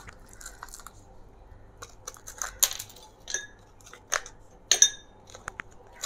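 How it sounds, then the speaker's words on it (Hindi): Ice cubes dropped one after another into a glass of orange mint mojito, giving sharp, bright clinks and knocks at irregular intervals against a quiet background. "अब इसके बाद हम इसमें डालेंगे आइस क्यूब्स"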